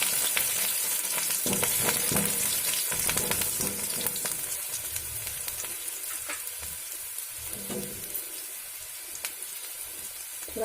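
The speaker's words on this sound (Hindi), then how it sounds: "इसमें मिर्चा और लहसुन को डाल देते हैं।" Chili and garlic fry in hot oil in a pan, a dense continuous sizzle with occasional stirring scrapes, close and fairly loud with no talking.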